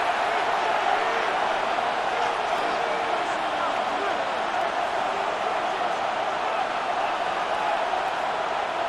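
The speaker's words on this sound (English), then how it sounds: "What about this crowd getting even louder before 3rd and 10?" A large stadium crowd in Madden NFL 26 roars steadily in a dense, continuous wash of noise, holding loud throughout with no breaks, before a third-and-ten play.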